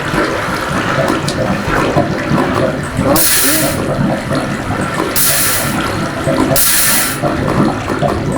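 Flowing water in Minecraft, a steady broadband rush running throughout, with three brighter bursts of splashing hiss at intervals and no talk.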